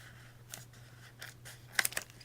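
Scissors trimming a flap of punched packaging for stamp storage, a few quiet crisp snips spread across a couple of seconds, with the last cuts sharper and closer together.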